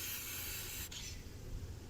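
Fix-a-Flat tire sealant sprays from a can through a stem attached to the valve of a punctured tire, a steady close hiss that pauses briefly and then resumes more softly.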